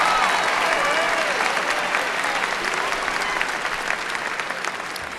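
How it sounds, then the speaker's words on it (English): An audience at a high school graduation claps steadily in a dense burst of applause that slowly tapers, with a voice faintly heard at the start. "Please give our middle school principals a round of applause."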